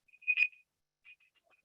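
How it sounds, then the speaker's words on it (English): Brief electronic alarm tone, a short chirping beep followed by a couple of fainter blips, quiet and isolated with silence around it. "That was my alarm."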